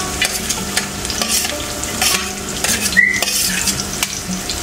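Green chilies, garlic and ginger fry in oil in a pan, sizzling steadily while a utensil stirs and scrapes against the metal in repeated close clinks, with no voices.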